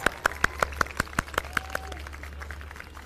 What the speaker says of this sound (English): Let us all accord him a warm welcome, a thundering round of applause.